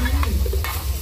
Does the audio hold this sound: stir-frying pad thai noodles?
yes